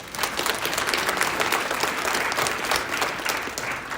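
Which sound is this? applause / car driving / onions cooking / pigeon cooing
applause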